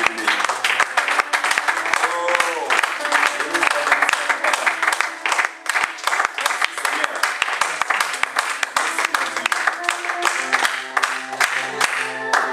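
A church congregation breaks into sustained, lively applause, dense clapping that carries on throughout, mixed with voices and music.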